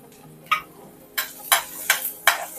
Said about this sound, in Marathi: कांदा आणि लसूण आपल्याला छान परतून भाजून घ्यायचं आहे